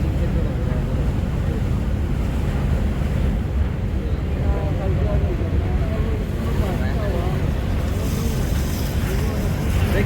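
A Kuakata-2 passenger river launch underway while overtaking other launches, giving a constant low engine and water rumble with wind noise, as people talk faintly over it.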